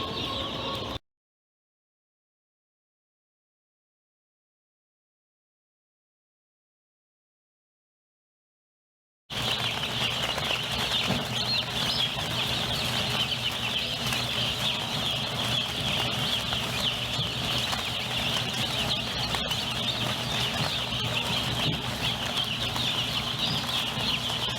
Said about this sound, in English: Well, we've got all the chicks out into the brooder